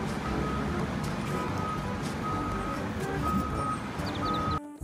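Toy forklift reversing alarm, a steady series of repeated electronic beeps at an even rhythm, fairly close and clear over a low background hum, cutting off abruptly at the end.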